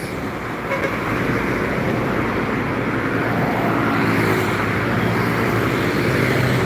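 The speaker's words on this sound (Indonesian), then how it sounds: "Dan truk-truk lagi yang banyak melintas lagi pagi ini." Heavy road traffic around Palembang in the morning, with trucks and buses rolling past in a steady, loud, continuous roar and low rumble, no voices.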